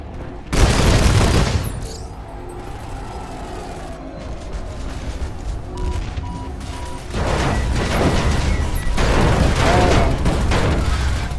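Gunfire in the online shooter Planetside 2 as a vehicle strafes enemy infantry: bursts of rapid shots and heavy booms, a loud cluster at first, then a quieter rumbling stretch, then more sustained firing.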